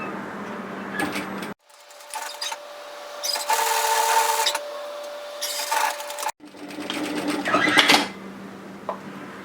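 Sewing machine running a 1 cm seam between notches on a bomber jacket, stitching in several close bursts with brief stops and a steady tone through the middle section.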